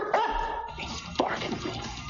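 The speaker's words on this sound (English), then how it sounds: "German shepherd starts barking." A German shepherd barks a couple of times, sharp and fairly close, with some whimpering between the barks against a quiet background.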